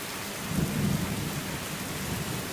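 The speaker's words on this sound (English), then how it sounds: "Some thunder going on too." Thunder rumbles low under steady heavy rain and small hail during a monsoon-like storm, a brief deep roll swelling and fading beneath the constant hiss of downpour.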